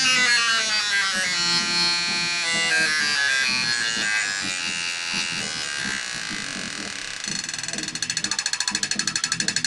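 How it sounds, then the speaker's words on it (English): A Dyna ARC-TF ignition fires on a Top Fuel Harley setup, giving a steady loud electrical buzzing crackle that shifts pitch before breaking into rapid, evenly spaced sharp snaps near the end. "that, my friends, is probably the biggest spark that I've seen being in the industry"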